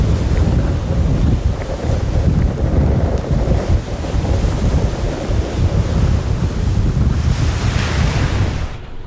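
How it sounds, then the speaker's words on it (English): Waves crash and wind buffets a small sailboat plunging through a storm at sea on the way to Utsira, a loud, continuous roar with heavy gusts across the microphone and no talking. "That's a little storm."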